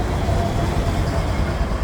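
A Norfolk Southern locomotive on a freight train rolls past, giving a steady, loud rumble of wheels on rail with faint clatter throughout and no talk.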